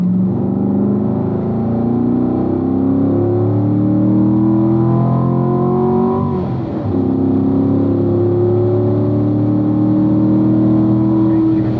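A race car engine at the Ron Fellows driving school drones loud and close, climbing steadily in pitch as it accelerates on track, briefly dipping as the gears shift, then rising again.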